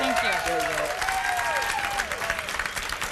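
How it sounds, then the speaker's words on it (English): An audience at an E3 2010 broadcast claps steadily throughout, a dense wash of applause, with voices speaking over it. "Round of applause for David Gaffney."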